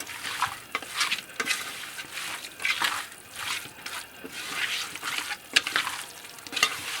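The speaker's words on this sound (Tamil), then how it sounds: "இதில் வந்து எல்லாமே போட்டுட்டு அதை அப்படியே மிக்ஸ் பண்ணிக்கணும்." Raw pork being mixed by hand with homemade garam masala, pepper and curry leaves for a Kerala-style Wayanad pork fry, giving soft wet squelching and stirring sounds in repeated bursts, close and fairly quiet, with no talking.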